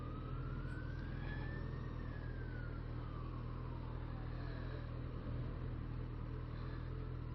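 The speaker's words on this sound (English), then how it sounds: "First responder, that car's a first responder." An emergency vehicle's siren sweeping up then falling in pitch as it passes by in traffic, faint and somewhat distant over a steady low road rumble.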